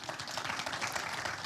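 Audience applause at a panel event, a steady dense patter of many hands clapping throughout, fairly distant and even in level, with no talking over it.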